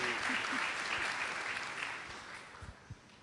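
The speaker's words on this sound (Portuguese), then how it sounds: "Vamos receber o pastor Elvis com uma forte salva de palmas, em nome de Jesus." At a church conference, a congregation gives a pastor a full round of applause. The dense clapping stays steady and then starts to thin, and a few separate claps stand out as it fades at the end.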